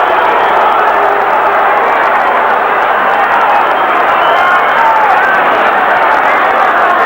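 Dense, loud boxing arena crowd at a De La Hoya versus Trinidad fight, a continuous wash of murmuring, jeering voices reacting with displeasure, steady and unbroken throughout.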